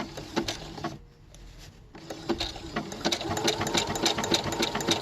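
A sewing machine stitches fabric for a toddler jumper, a close, fast mechanical whirring and patter that stops briefly, then resumes steadily.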